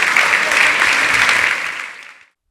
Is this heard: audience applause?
yes